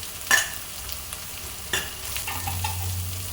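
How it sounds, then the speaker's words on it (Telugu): Onions frying in a pan for fish biryani, stirred with two sharp scrapes of a spoon over a steady close sizzle. "ఆనియన్స్ 2 కూడా మంచిగా ఫ్రై అయిపోతాయండి."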